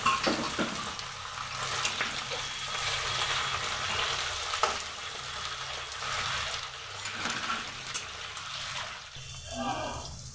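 Spinach added to potatoes in a hot pan for a village-style fish curry, sizzling loudly and steadily up close, with stirring scrapes and a brief watery splash near the end.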